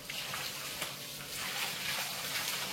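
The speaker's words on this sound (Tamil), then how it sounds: "நல்லா பிடிங்க தண்ணியை." Water running from a tap in a home in Jaffna, collected in a container: a steady, close splashing hiss that stays constant throughout, with no voices.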